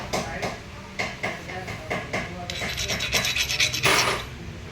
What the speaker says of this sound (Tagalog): meron kayong liha lihain nyo kundi dito para sure